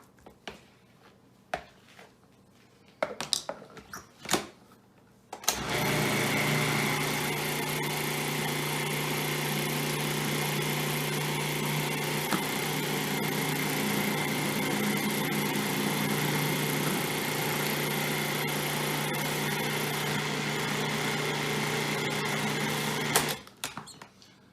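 A blender purées chickpeas into homemade hummus. A few clunks and knocks come first, then the motor roars at a steady, loud, high-pitched whine for nearly twenty seconds before cutting off.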